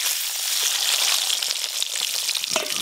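Potatoes frying in hot oil produce a dense, steady hissing sizzle with small crackles, close up and unaccompanied by speech.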